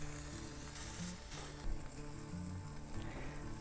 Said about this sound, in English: Let's give it a flip. Nice searing.